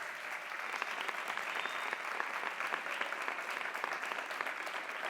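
Students of a social work faculty clap for themselves at a panel on social violence and peace, a dense, steady patter of many hands filling the room, moderately distant and continuous without a break.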